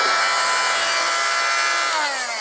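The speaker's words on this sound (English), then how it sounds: "I'm gonna shave them down with one pass of my multi-tool" An oscillating multi-tool cuts rubber snowblower impeller paddles clamped in a vise for a Cub Cadet 3X, a loud, steady, high-pitched buzzing rasp that drops in pitch as the cut finishes.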